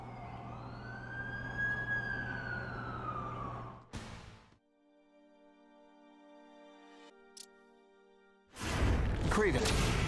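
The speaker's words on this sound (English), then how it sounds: "That's the ambulance I called." An ambulance siren in the Amazing Spider-Man 2 video game wails with rising and falling tones for several seconds, then cuts off abruptly, giving way to quieter synthetic game sounds before a loud burst near the end.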